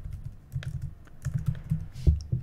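Typing on a computer keyboard while laying out text for a web comic page, a steady run of close, soft key clicks and taps with a few heavier strokes, no voices.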